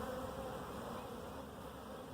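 Steady, dense buzzing of many honey bees, rescued from a tree, around a hive, continuous and fairly close, with no voices.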